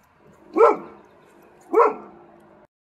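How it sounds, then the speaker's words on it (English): A dog barks twice outdoors, each a single loud, close bark about a second apart, with quiet pauses between them. "See, it's barking already."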